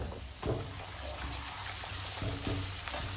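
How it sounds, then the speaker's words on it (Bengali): Papad fries in hot oil in a pan, giving a steady moderate sizzle with a few soft clinks of utensil contact near the start and toward the end. "একটু পাঁপড় ভেজে নিচ্ছি"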